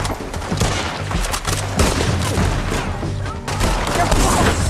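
Rapid gunfire rattles through a shootout in Red Dead Redemption 2, with dense overlapping shots and heavy booms filling the whole stretch, loud and close, while voices shout over the fight.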